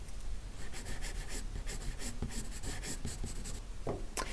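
A graphite pencil shades across the surface of drawing paper in quick, rhythmic strokes, heard close and quiet, with a soft breath near the end.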